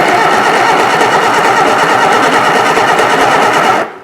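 A Reliant Supervan's small engine runs loud and steady right up close for several seconds with a fast, buzzy rattle, then cuts out abruptly near the end.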